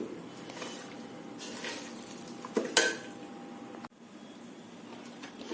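A lemon and sugar pickle mixture being stirred in a pot, heard as quiet scraping and clinking of a utensil against the metal, with a brief louder clank midway before the sound drops off.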